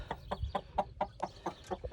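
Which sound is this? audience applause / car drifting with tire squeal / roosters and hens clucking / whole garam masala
roosters and hens clucking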